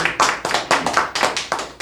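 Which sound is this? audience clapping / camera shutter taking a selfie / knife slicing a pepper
audience clapping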